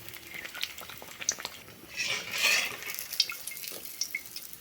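Pitha made from semolina and peanuts frying in hot oil, a steady crackling sizzle with scattered pops and a fuller bubbling swell midway, close and moderately loud with no talking.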